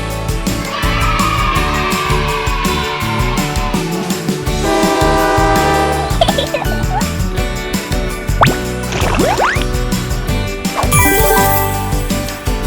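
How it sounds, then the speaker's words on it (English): A loud train rumbles by with rattling wagons and clanking, its horn sounding in long tonal blasts partway through. "This is a train."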